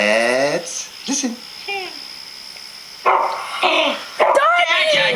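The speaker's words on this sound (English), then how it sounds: "That's a dog." A cartoon dog barks and yips several times in short bursts, mixed with a child's babbling and other voices speaking between the barks.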